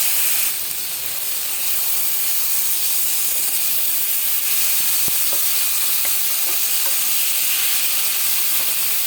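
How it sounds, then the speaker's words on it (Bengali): Boiled tomato dropped into a hot tempering of cumin, dried chilli and asafoetida, releasing a loud, continuous hissing sizzle that carries on steadily with a few faint clinks. "সেদ্ধ টমেটোটা দিয়ে দিচ্ছি।"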